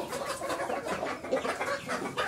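A flock of hens in a backyard coop keeps up continuous overlapping clucks, moderately close and without any speech.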